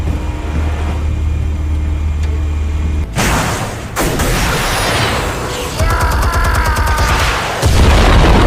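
A sudden loud, broadband blast goes off in the Batman: The Telltale Series video game when armed explosives are fired. A rumbling, crackling aftermath follows, with further mechanical clatter and impacts.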